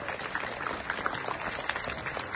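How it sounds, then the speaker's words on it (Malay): Students at a school assembly in the first week of term clap for themselves, a dense, steady patter of many hands lasting a couple of seconds with no voices over it. "Beri tepukan kepada diri sendiri."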